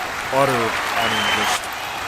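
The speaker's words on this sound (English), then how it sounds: "Round of applause for this guy." Crowd applause at an MMA awards show celebrating a flying-knee knockout, a steady wash of clapping with a voice speaking over it for most of the clip.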